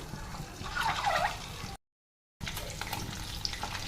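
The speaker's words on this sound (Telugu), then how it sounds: "ఆయిల్ హీట్ ఎక్కాక 1/2 స్పూను కారం వేసుకొని ఇప్పుడు గుడ్లు అయితే ఇందులో వేసేద్దాం" Eggs frying in hot oil with chilli powder in a home kitchen pan, a steady close sizzle with one short silent break partway through.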